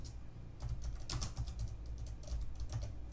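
Steady quick keystrokes clatter on a computer keyboard, close and moderately quiet, with uneven bursts of typing and no voices.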